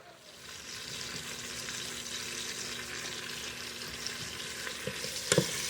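Pork searing in a pan before going into a pressure cooker for carnitas, a steady broadband sizzle and frying crackle that holds evenly throughout, with a few sharper pops near the end and no talk.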